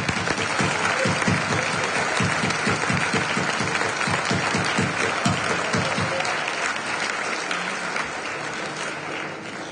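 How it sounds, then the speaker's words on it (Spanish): A strong round of applause at a concert of music inspired by painting and literature, dense and sustained clapping that starts with a rhythmic pulse and then fades slightly toward the end. "ruego un fuerte aplauso para ellos."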